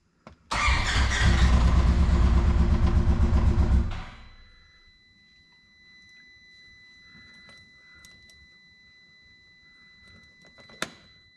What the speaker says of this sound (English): Okay, we are going to crank the engine up.